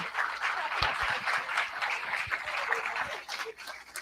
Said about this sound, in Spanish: No podían esperar los aplausos, entonces.